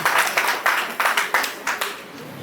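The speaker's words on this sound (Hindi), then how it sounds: "तो जोरदार तालियां" A short burst of crowd clapping at an awards ceremony in Rajasthan, quick uneven claps from a small audience, fairly close and fading slightly toward the end.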